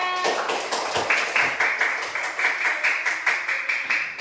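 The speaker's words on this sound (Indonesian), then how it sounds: "Tepuk tangan untuk kelompok 3." Classroom applause for a student group, a short burst of many hands clapping in a quick, uneven rhythm that carries on steadily close by.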